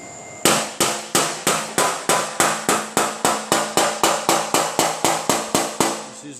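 A hammer strikes the metal fender of a 2010 Honda Civic sedan with a dolly held just off the panel behind it, producing about twenty sharp, evenly spaced ringing blows in quick rhythm, loud and close.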